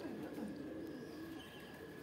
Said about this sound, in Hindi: उधर भी बैठे हैं कबूतर